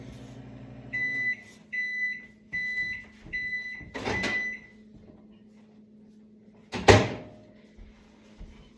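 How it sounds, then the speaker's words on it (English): A microwave oven runs with a low steady hum while warming sourdough starter ingredients, then several short beeps sound in a row, followed by a door opening with a clunk, near and fairly quiet. "So the 30 seconds in the microwave will be fine."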